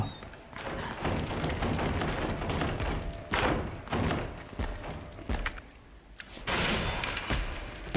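A door being rammed in the game Resident Evil 2 Remake, a run of heavy thuds and bangs, loud and close, repeating irregularly over dense background noise.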